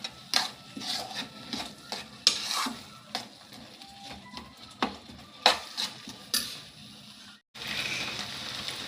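Dal stirred in a pan on the stove, with repeated irregular knocks and scrapes of a spoon against the pan over a soft sizzle, close and clear, ending after a brief gap in a steadier hiss.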